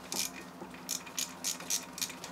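Close, rhythmic ratcheting from a wrench backing out the rear bolt on an AC Nitro 200 clutch assembly, about six short clicking bursts in a steady back-and-forth pattern, fairly quiet.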